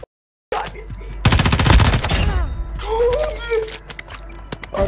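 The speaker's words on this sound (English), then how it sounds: "Fire my gun, please!" Gunfire in the Warzone Mobile video game, a rapid burst of loud automatic shots after a brief silence, followed by game sound effects and scattered clicks.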